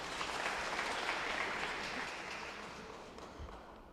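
Applause from a gathered crowd greets a candidate after their vote tally is announced at a count, a steady wash of clapping that holds for several seconds and slowly fades.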